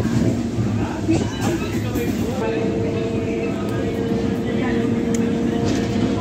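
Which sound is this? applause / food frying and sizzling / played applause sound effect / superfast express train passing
superfast express train passing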